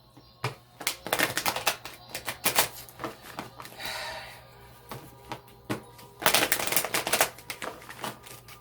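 Oracle deck shuffled by hand, with quick papery riffles and flicking card slaps in uneven bursts separated by short pauses, close and moderately loud with no talk.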